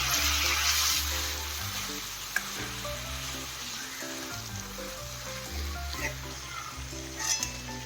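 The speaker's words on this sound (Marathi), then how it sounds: "त्यामध्ये स्वच्छ धुवून मेथी टाकून घ्यायची आहे मिक्स करून घ्यायचं आहे सगळं एकत्र" Fenugreek leaves stirred into chicken liver masala frying in a pan, with a steady sizzle and repeated scraping strokes of a spoon running throughout, close and fairly loud, no talking.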